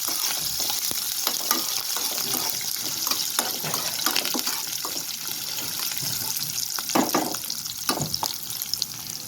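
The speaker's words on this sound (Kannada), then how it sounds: "ಎಲ್ಲ ಕಟ್ ಮಾಡಿಟ್ಟಿರೋದು ಚೆನ್ನಾಗಿ ತಿರ್ಸ್ಕೊಳ್ಳೋಣ." Curry leaves, green chilli and small onions for a broad beans palya are stirred in hot oil, making a close, continuous crackling sizzle broken by frequent spatula scrapes and taps against the pan.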